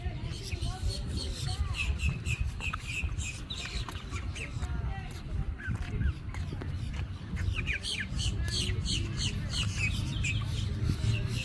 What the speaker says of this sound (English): These are Coots. These guys love to swim.